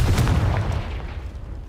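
A Confringo fire spell detonates in the game Hogwarts Legacy, a loud booming blast with a heavy low thump up front that rumbles and fades over about a second.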